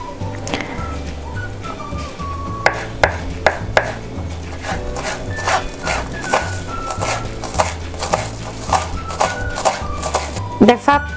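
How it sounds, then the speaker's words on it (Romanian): Chives chopped with a knife on a board, a run of quick sharp close taps in uneven bursts over a low background hum, with light talk in the room. "Acum o să tocăm iarba cipolină."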